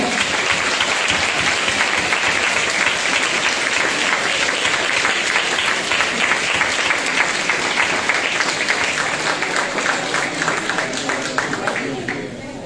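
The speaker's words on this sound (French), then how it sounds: "on peut l'applaudir bien fort" An audience at a gathering with the Consul General of Portugal in Bordeaux applauds warmly, a dense sustained clapping that stays loud and even before easing off near the end.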